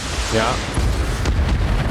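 A particle cannon fires in the BattleTech video game, a loud, close burst that rolls into a rumbling boom, with a voice audible over it.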